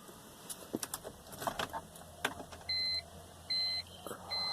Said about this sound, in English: Here we go. I'm getting my beeps.